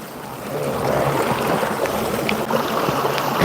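River water rushing and flowing steadily outdoors on a hot day, a continuous broadband wash that swells slightly after the first second and holds fairly loud to the end, with no talk.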